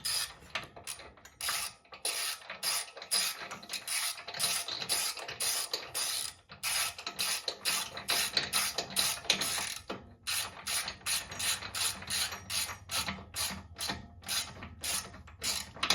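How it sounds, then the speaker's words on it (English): Rapid ratcheting clicks from a T47 Torx bit driving motorcycle foot peg bolts into a 2022 Harley-Davidson Low Rider ST, a steady mechanical ticking in repeated bursts with short pauses, close and alone. "you want to take a T47 Torx bit, and you want to get everything lined up and go ahead and start threading her in"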